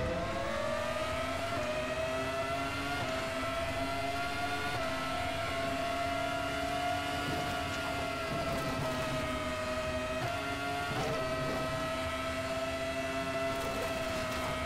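A race car engine howls at Spa-Francorchamps in the RaceRoom racing game: a constant, loud, tonal whine at high revs that rises slowly with small pitch steps at gear changes, heard up close with no other sounds.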